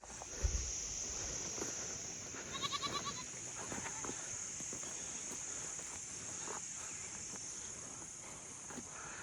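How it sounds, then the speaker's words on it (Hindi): A flock of sheep and goats at a shepherds' camp near Palampur in the Dhauladhar Range bleats now and then against a steady drone of insects and crickets, with quiet outdoor background. "ये भाई भेड़ बकरी"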